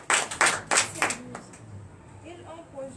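A church congregation claps during a Sunday worship service in Comè, Benin, with a few sharp loud claps early on that fade into quieter room sound and faint voices.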